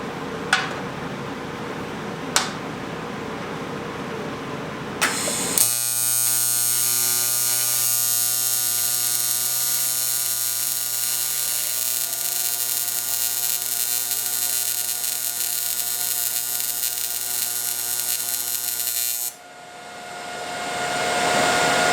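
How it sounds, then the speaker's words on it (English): Electric welder laying a weld on car parts for a budget twin-turbo LS Malibu, a steady loud buzzing hum that runs for about fourteen seconds after a few sharp clicks, then cuts off. "we'll see if we can have enough amps to weld this"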